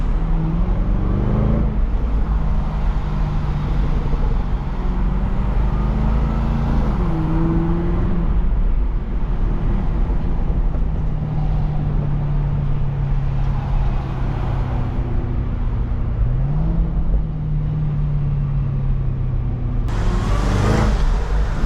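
Cadillac CTS-V supercharger whine on a midday drive, heard from the cabin as a rising and falling whine over steady road and engine rumble, climbing with each acceleration.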